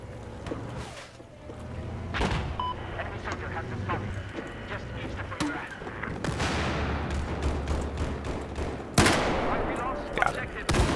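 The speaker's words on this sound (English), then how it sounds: "Oh no, this guy's shooting at me!" Bursts of gunfire in a video game, rapid machine-gun rattles and single sharp shots scattered throughout at varying distances, mixed with excited voices talking.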